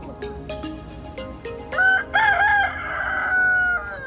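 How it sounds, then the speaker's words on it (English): A rooster crows loudly and close by at a ranch on Oahu, a drawn-out cock-a-doodle-doo following a few short clucks and clicks, with no talking. "Oh, look, chicken. Oh, rooster."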